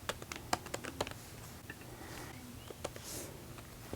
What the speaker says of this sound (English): I'm just going to start typing out some of the stuff that I spent money on.